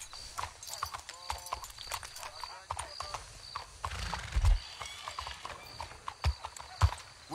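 Horse hooves clip-clop in Red Dead Redemption 2, with a horse whinnying, the steps close and irregular under ongoing talk.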